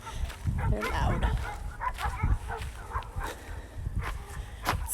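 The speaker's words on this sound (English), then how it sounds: "The dogs are happy to see us." Several dogs at a winter lavender farm bark and yip excitedly in loud, overlapping bursts close by, with a person talking faintly underneath.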